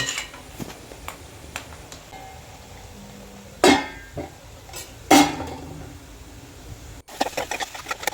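A lid set down on a pot of chicken curry in a home kitchen: two distinct sharp metallic clanks a second or so apart, among faint scattered ticks and clinks.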